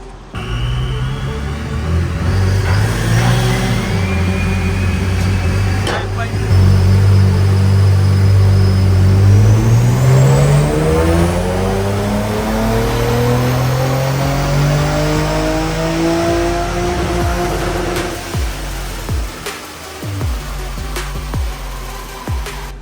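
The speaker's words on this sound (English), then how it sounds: "So, the final dyno run is done." A supercharged Holden VF SV6 engine on a dyno revs steadily upward through the gears, a loud continuous climbing roar with rising whine, then drops off sharply at the end of the run.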